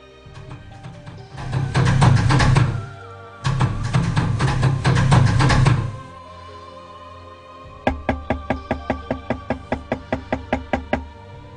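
Knocking on a door in a horror radio drama: two long bursts of rapid pounding, then a steady run of about a dozen evenly spaced, sharp knocks, close and loud, with no voices.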